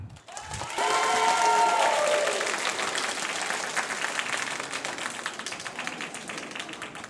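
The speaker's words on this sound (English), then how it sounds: "Let's give them all a humongous round of applause." Audience at a San Francisco Chinatown Lions Club scholarship gala bursts into sustained applause, with some cheering at the start, loud and dense before gradually thinning out.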